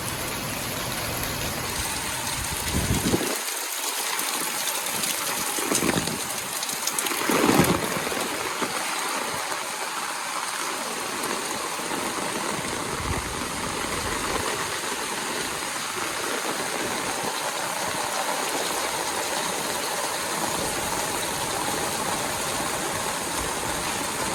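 Heavy rain pours down in a dense, steady hiss, with a few louder gusts early on and no voices.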